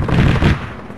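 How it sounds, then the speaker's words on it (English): A single gunshot from a World War II era weapon cracks in Arma 3, a short heavy boom with a quick fading tail, fairly loud and alone. "Shot coming from the little house"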